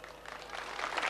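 Audience applause at a cultural arts event in a small town, a soft, brief patter of clapping from a crowd that swells slightly toward the end.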